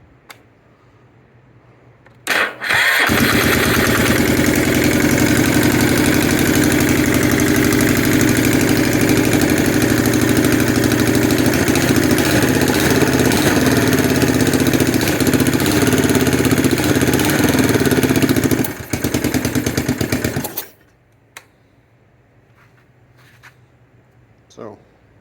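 A parts-built ATV engine catches after its carb bowl is filled with gas and runs loudly at a steady idle for about eighteen seconds close by, then cuts off, leaving quiet room noise.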